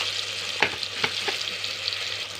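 Spice powders and a pinch of fenugreek seeds frying in a pan give a soft steady sizzle, broken by a few sharp scrapes or taps of a stirring spoon against the pan, with no voices.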